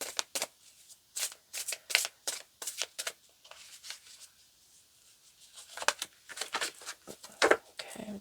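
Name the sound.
deck of oracle cards being shuffled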